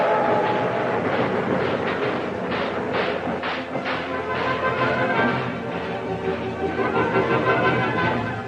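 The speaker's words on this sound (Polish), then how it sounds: "Przez most ruszył pierwszy pociąg." The first train rumbles steadily across a newly opened bridge with rhythmic clattering and thumps, loud and continuous over several seconds.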